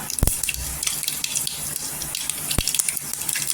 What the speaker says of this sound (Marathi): जिरं पण तरतरलं पाहिजे.